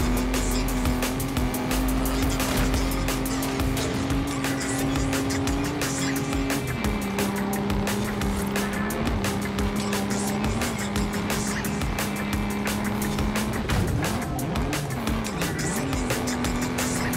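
A heavy car in the racing game Forza Horizon 5 drives hard, its engine droning continuously while tires squeal and skid through turns, loud and close throughout.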